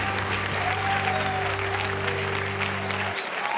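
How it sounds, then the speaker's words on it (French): Sustained audience applause for two singers after a performance on The Voice Afrique francophone, a dense steady wash of clapping with a faint tonal hum underneath, cutting off sharply near the end. "Encore des applaudissements pour les deux."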